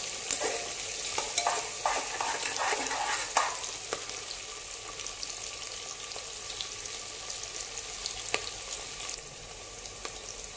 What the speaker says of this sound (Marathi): इथे गॅसची फ्लेम हाय आहे आणि हाय फ्लेमवरती आपण कांदा छान असा परतवून घेणार आहे।